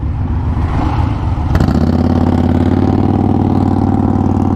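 A large motorbike engine idles loudly and steadily close by, a low rumbling putter that grows a little fuller partway through and holds.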